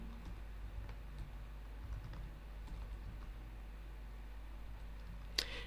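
Fingers tap out code on a computer keyboard during a Python strings lesson, producing light, irregular clicks over a steady low hum. A single sharper click comes near the end.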